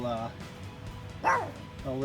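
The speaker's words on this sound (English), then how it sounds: "while your Chihuahua barks at you as if you're an intruder" A Chihuahua lets out a single sharp, close bark midway, framed by whiny, tonal yelps before and after, indoors during a riding mower blade change.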